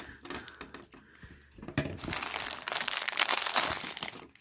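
Crinkly plastic packaging around a Pokémon ball toy is cut open with scissors, giving a close, irregular crackling and rustling that starts in bursts and swells into a loud, continuous crinkle.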